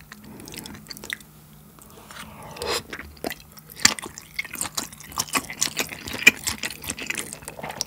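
Close, wet chewing and biting on an octopus-shaped sausage during a spicy rosé ramen meal, with soft squishy bites and small smacking sounds that grow busier and more frequent toward the end.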